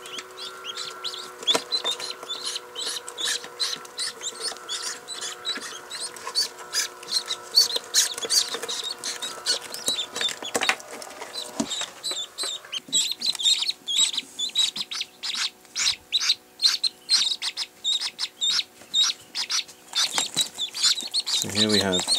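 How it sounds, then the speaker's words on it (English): Seven lively newly hatched ducklings peep constantly, high rapid chirps crowding together near the mic in a busy, overlapping chorus that grows more insistent toward the end. "So here we have 7 ducklings, and they're quite lively."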